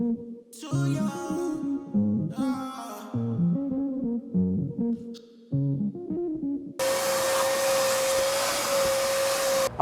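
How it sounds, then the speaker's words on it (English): Vacuum cleaner running steadily and loudly with a constant high whine, cleaning a Jeep's interior; it starts after several seconds of music-like tonal sounds and keeps going to the end. "we just finished vacuuming around the whole entire Jeep"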